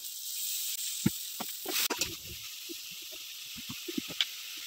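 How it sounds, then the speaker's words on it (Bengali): Water poured into a hot pan of spiced tomato base for aloo dum, a steady hissing sizzle with scattered pops and clinks close by. "অল্প পরিমাণে জল দিয়ে দিচ্ছি"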